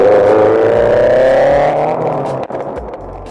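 A modified Subaru WRX STI engine and exhaust rev and pull away, a loud droning note climbing then fading, with a sharp pop near the end.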